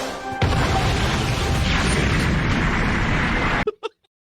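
A kart slams into the player during a Mario Kart 8 Deluxe race, a loud sustained explosive crash burst lasting several seconds that cuts off abruptly, followed by two short pops.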